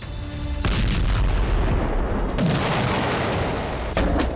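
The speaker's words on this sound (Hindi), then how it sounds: "देखिए ये मिसाइल किस तरह अपने टारगेट की तरफ बढ़ती है और फिर होता है बड़ा धमाका" A loud, sustained roar of a cruise missile blast, with deep booming rumble and a sharp burst partway through, dense and overwhelming.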